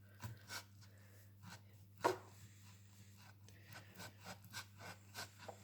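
A knife cuts meat into cubes, giving soft, close scraping and slicing strokes with one sharper knock against a board, quiet over a low steady hum.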